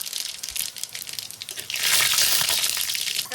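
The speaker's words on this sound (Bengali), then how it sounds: "তেল গরম হয়ে গেছে, এখন ফোড়ন দিয়ে দেবো 3টে শুকনো লঙ্কা গোটা, আর কিছুটা দিয়ে দেবো সর্ষে" Three whole dried red chillies and black mustard seeds hit hot oil, starting with scattered crackles and pops, then swelling into a loud, steady hissing sizzle close by.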